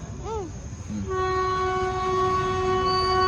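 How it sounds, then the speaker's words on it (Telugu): A train approaches with a sustained, chord-like horn that holds steady and loud through most of the stretch, over a rumbling background, after a few brief sounds at the start. "అది ట్రైన్ వస్తుంది."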